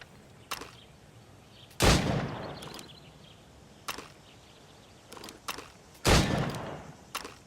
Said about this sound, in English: Go on. Shoot these targets.